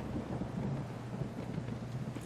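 Steady rain with rumbling thunder from a stormy day in the video game Kingdom: New Lands, a continuous dense wash with low rolling rumble throughout, fairly loud and without speech.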